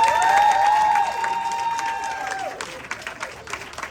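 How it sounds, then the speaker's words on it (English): After a children's choral speaking performance, an audience gives a round of applause and cheering that gradually thins out, with a sustained tone ringing over it at first. "Can I get another round of applause?"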